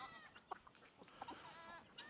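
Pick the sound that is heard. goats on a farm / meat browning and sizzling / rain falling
goats on a farm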